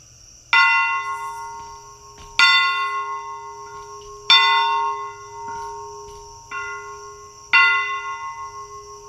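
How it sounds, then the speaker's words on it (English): A ceremonial bell rings at a memorial ceremony, struck five times at slow, uneven intervals, each loud clang ringing out and decaying before the next, with no voices. "I guess I will take over the bell."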